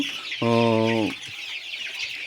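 A single chicken gives one loud, drawn-out cluck lasting under a second, close and clear against the soft background murmur of a poultry farm.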